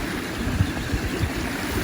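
Stream tumbling down a steep stretch of small cascades, a continuous broadband rush of water with soft low burbles, steady and close, no voices.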